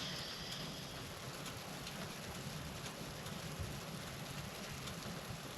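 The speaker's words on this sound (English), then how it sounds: "I've been able to hear snow hit this tent the entire time I'm here" Snow falls on a hot tent beside a stove while camping on Lake Michigan in cold weather, making a faint, steady, even hiss of soft patters that continues throughout with no voices.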